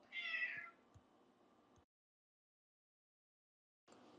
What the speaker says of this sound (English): Sorry, you hear my cat.